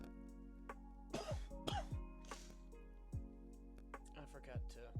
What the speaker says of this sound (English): I hope you enjoyed my lovely cough.